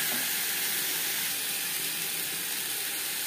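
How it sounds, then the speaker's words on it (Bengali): Potato pieces fry in hot oil in a pan with salt and turmeric, giving a steady, fairly quiet hiss and sizzle that continues unbroken. "আলুও ভেজে নেব।"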